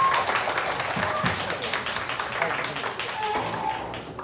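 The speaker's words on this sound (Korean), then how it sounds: "박수 한 번 부탁드립니다." A student music department audience claps to welcome a vocalist on stage, moderate scattered applause with a few nearby hand claps.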